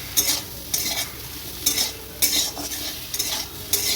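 A spoon stirring and scraping through spices with turmeric, chilli powder and slit green chillies sautéing in a pan, repeated rhythmic scrapes over a steady frying sizzle, close and without voices.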